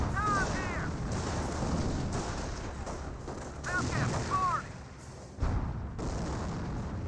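Grenade and other explosions in a Company of Heroes battle, booming blasts amid dense continuous gunfire and artillery rumble, with a few whistling shell sounds overhead.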